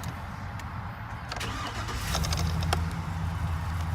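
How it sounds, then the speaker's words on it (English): A large 6.0L V8 engine in a lifted 2008 Chevrolet Silverado 2500 pickup cranks and catches, then settles into a deep, throbbing idle rumble, loud and close. "You can hear like the beefy bah, bah, bah, bah, bah, bah, kind of rumbling to it."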